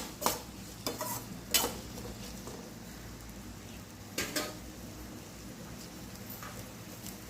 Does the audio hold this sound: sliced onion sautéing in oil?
yes